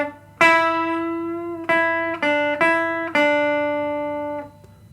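A rockabilly electric guitar lick in D, finger-picked: five clean, ringing plucked notes and double-stops with a bend, each left to sustain and decay, played alone and close.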